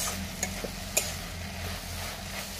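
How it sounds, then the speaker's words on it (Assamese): Quiet scraping of a utensil stirring in a pan over a soft frying hiss, with a few light clinks. "এতিয়া অকণমান সময় ভালকৈ এনেকৈ লৰাই লৰাই ভাজি ল'ম।"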